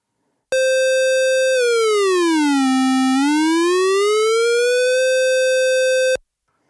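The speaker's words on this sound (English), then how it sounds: "if I hold this EG button, you'll hear me moving the frequency of VCO1" A Moog Subharmonicon semi-modular synth holds a bright, buzzy VCO1 tone that glides smoothly down in pitch, rests low, then sweeps back up to the starting note before cutting off, loud and alone.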